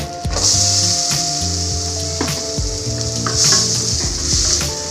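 Onions sauté in hot oil with cinnamon, cardamom and bay leaf for restaurant-style paneer butter masala, a loud, steady bright sizzle punctuated by several clanking stirs of a spatula against the pan.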